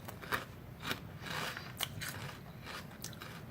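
Potato chips crunch close up as someone eats, with several crisp, sharp bites and crackly chewing in quick irregular succession, fairly quiet overall.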